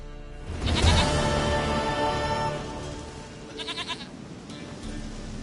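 A goat bleats loudly and close in the Witcher 3 video game, a long wavering cry followed by shorter bleats over background game music.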